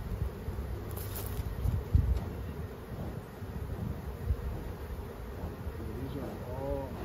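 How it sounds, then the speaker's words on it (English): Many honey bees buzz around an open hive during frame swapping, a dense steady droning hum up close with a few louder passes near the microphone and faint wind. "This is so many bees."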